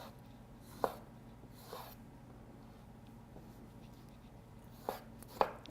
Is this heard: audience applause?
no